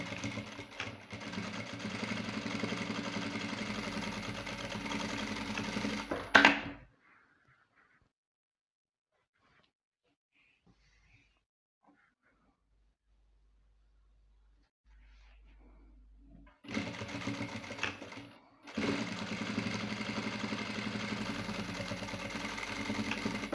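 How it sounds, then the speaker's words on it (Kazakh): A sewing machine runs steadily while stitching the corner of a fitted cover for a corner sofa, a continuous mechanical whir for several seconds that stops, leaves a long quiet gap, then starts again and runs on. "Міне мен осы жерден тігіп аламын."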